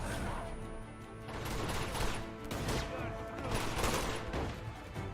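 Sustained gunfire crackles and booms through an Uncharted video game firefight, with a grenade blast in the mix, loud and continuous for several seconds.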